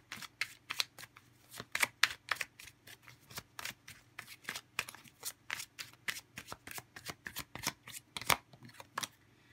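Tarot cards shuffled by hand in a steady run of crisp, close riffling flicks that repeat rhythmically, loud and continuous, with no talking over them.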